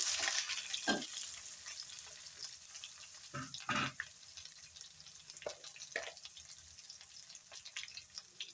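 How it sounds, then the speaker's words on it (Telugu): Onion pieces sizzle with dry red chillies in hot oil, a quiet, steady fry with occasional spoon scrapes and a few louder stirring bursts. The sound stays fairly faint throughout. "ఎండుమిర్చి కొంచెం కలర్ షేడ్ అయిన తర్వాత వెంటనే ఉల్లిపాయ ముక్కలండి."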